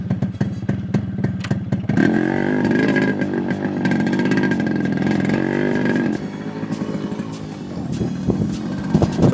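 Yamaha RX100 two-stroke motorcycle engine idling with a rattly burble, then revved up and held for several seconds before dropping back to a choppy idle, loud and close with no voices.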